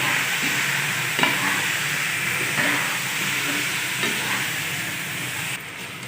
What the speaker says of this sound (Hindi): चिकन को अच्छी तरह फ्राई कर लेंगे।